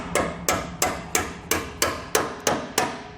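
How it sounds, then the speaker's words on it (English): A hammer strikes a metal tab on a vehicle tow base plate being installed on a 2017 model, landing eight evenly spaced, sharp, ringing blows close up with no talking. "we'll take our hammer here and we'll go ahead and flatten that tab."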